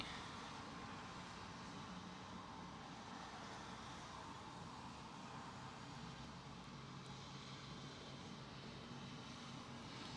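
An Airbus A320 airliner rolls along the runway at London Heathrow after landing, producing a steady, broad engine roar that stays even throughout, heard from a distance with no voices.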